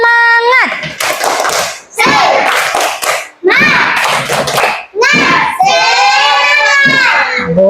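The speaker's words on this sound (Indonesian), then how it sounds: "coba tepuk semangat." Children in a grade 4 elementary classroom perform a rhythmic spirit clap, with loud bursts of hand claps in short sets alongside shouted, chanting young voices, filling the room up close.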